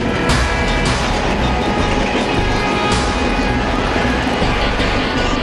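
Loud, continuous rumble of a Delhi-Jaipur Shatabdi train ride from inside an executive class carriage, with rattling and occasional clatter of wheels over the track.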